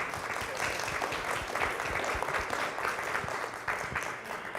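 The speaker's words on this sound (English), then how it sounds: "can we give Rabbi a round of applause here?" Audience applause after a Sunday School class at Westminster, a dense steady patter of clapping that fills the room evenly for several seconds without voices.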